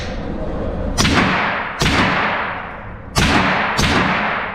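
Four supersonic rifle rounds fired through a YHM R9 suppressor, each a sharp crack with a decaying tail, spaced about a second apart over a steady background hum, no talk.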